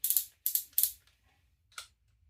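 Selector on a Makita DDF487 cordless drill being clicked through its settings: three quick ratcheting bursts close together, a pause, then one more click, crisp and close with nothing else around.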